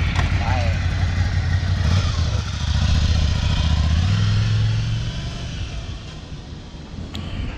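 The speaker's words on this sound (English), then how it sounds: "Ducati baru 797." A new Ducati 797 motorcycle engine rumbles nearby in a loud, steady low drone that eases and fades toward the end, with indistinct voices mixed in.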